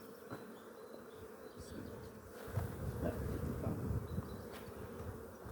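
Honeybee drones from a stacked Langstroth hive buzz loudly and continuously as they are shaken off a frame in front of the hive entrance, a dense close swarm drone that thickens midway.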